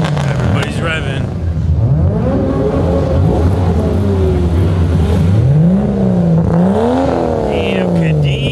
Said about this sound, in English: Everybody's revving.